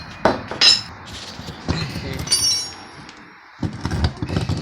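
A big blunt-end chisel is struck with a hammer against a Ford Econoline E350 steering box, giving several sharp metallic clinks and knocks at irregular intervals, close and fairly loud, with no talk.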